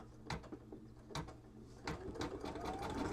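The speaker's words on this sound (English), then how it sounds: "now I'm going to sew the very last stitch" Sewing machine running in short bursts as it sews the final stitch on a mug rug, with brief pauses between rapid mechanical runs, close and moderately loud.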